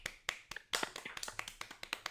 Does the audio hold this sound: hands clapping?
yes